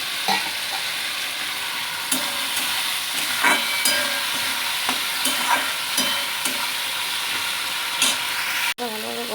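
Masala and fried potato pieces sizzling in a pan for fish curry, with a steady hiss broken by regular stirring scrapes and clanks, close and loud, no voices.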